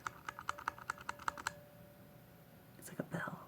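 Close-up typing on a mechanical keyboard with brown switches, a brisk run of crisp taps for about a second and a half, then a pause and a soft whispered voice near the end.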